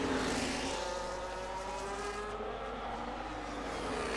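Formula 1 cars race and overtake in the F1 25 video game, a fairly loud, smooth engine roar and rushing whoosh that gradually thins out and fades.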